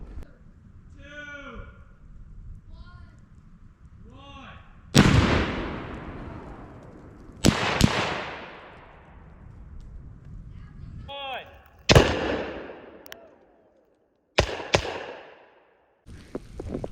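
Tannerite exploding targets detonate outdoors in several loud, sharp blasts, each trailing off in a long rumbling echo, with people talking and shouting between them.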